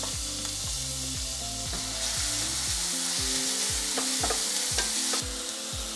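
Finely chopped onion frying in a splash of vegetable oil on a stove, a dense continuous sizzle with rhythmic scraping strokes of a spoon throughout, close and fairly loud, no talking.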